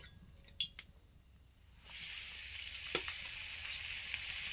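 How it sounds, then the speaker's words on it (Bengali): Potatoes sauté in hot oil in a pan. A couple of faint clinks come first, then a steady, close sizzle that holds to the end with one soft stir partway through, and no voices are heard. "আলুটা এবারে কষে নিচ্ছি"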